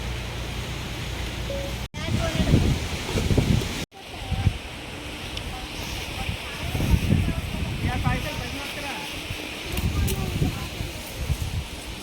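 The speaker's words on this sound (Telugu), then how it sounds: "ఇక్కడ చాలా గాలి వస్తుంది" Gusty wind at an outdoor family picnic buffets the microphone in loud surges, with rustling and a person speaking faintly beneath it.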